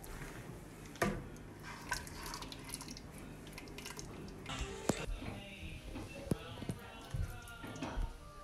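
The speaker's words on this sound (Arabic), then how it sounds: "الشير ديالنا ديال البيض نديرو في الجوانب" Beaten egg mixture poured around the sides of a dish for the Moroccan boramach, with soft liquid drips and wet squishes against a quiet background, marked by a few sharper taps.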